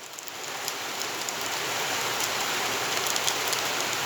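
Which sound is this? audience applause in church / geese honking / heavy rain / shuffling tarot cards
heavy rain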